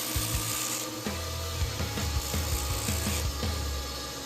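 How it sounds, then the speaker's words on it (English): A bench grinder trims down an AK-47 retaining pin, a steady high whine with grinding rasps as metal meets the wheel, close and continuous without talk. "the original retaining pin, looks like it would make a really good slave pin, so I'm going to trim it down on the grinder"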